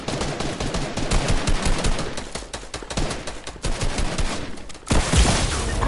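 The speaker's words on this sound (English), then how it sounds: "Oh, I'm getting shot." Fortnite gunfire: rapid, loud machine-gun bursts rattling almost continuously, with a heavier blast near the end.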